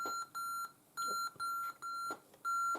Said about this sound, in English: Oh, did a lot of beeping.